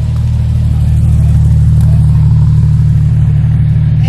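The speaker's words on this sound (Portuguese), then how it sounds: "É uma BMW E36 Cabre." A BMW E36 Cabrio engine runs loud and close, a steady deep rumble that holds strong throughout without a break.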